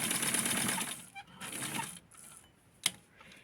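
A sewing machine stitching a felt Patrick Star plush, running in a few short buzzing bursts with brief pauses and a sharp click near the end, close and fairly quiet.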